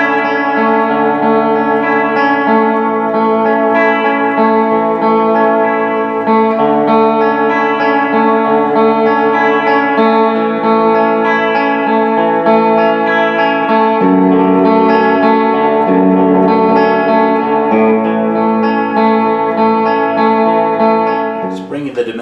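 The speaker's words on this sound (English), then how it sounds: "The higher you turn the dimension up, the more it gets to kind of what they call an echo resonance." An EarthQuaker Sea Machine chorus pedal with its dimension control turned high for an echo-resonance setting shapes a sustained, heavily modulated guitar tone. The warbling, shimmering chords ring out loud and continuous, with no talking.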